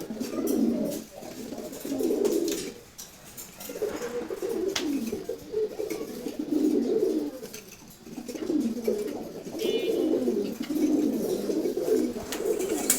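Racer pigeons coo in repeated soft, throaty rolling phrases, close by and fairly loud, with brief pauses between bursts.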